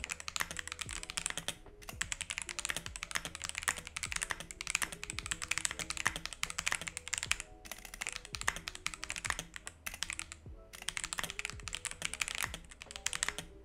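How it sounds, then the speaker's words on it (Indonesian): Fast typing on an Epomaker MC66 acrylic mechanical keyboard with factory-lubed Epomaker Bulgarian tactile switches: dense, continuous clacky keystrokes, close and crisp, with a few brief pauses. "ini adalah hasil suara dari switch Bulgarian Epomaker"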